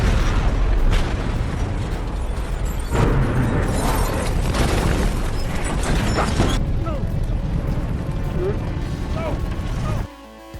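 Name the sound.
car explosion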